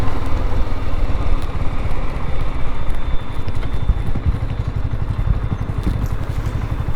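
A BSA Goldstar 650 classic motorcycle ridden on busy roads, with a constant throbbing engine drone and heavy wind rumble.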